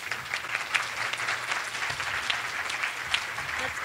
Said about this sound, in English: Let's give a big round of applause to Dr. Sang Lee for introducing us to the Ko